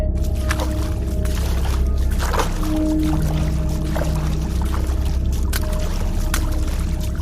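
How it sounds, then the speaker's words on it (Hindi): Someone wades through river water in a forest, with sloshing, swishing splashes over a steady low rumble and a few brief tonal sounds. "तभी उन्हें नदी में किसी की चलने की आहट सुनाई देती है"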